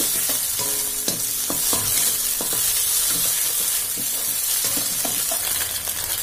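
Eggs frying and being stirred in a pan for a homemade Indian egg bhurji, a steady loud sizzle with repeated scraping stirs of a spatula throughout, no talking.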